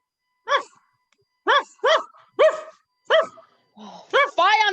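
Dog barking played as a sound effect in a staged reading, heard as a string of six or seven clear, close barks spaced unevenly and ending in a rising, drawn-out bark or whine.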